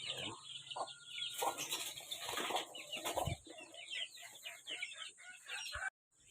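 A Brahma chicken clucks close by in a busy poultry setting, with other fowl sounds and bursts of wing flapping, before the sound cuts off abruptly near the end.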